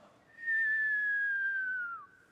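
A voice imitates a falling bomb with a single long whistle that holds steady and then slides downward, clear and close against a quiet background.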